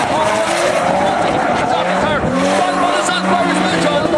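Drift cars at a pro drift event fling sideways through a corner, engines roaring under long, wavering tire squeals that rise and fall, loud and continuous, with a commentator talking over the action.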